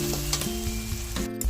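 Onions sizzle in a hot pan as the base for dal, a close, steady crackling fry with a few stirring scrapes over a short stretch.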